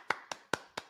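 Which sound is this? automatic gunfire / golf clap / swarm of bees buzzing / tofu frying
golf clap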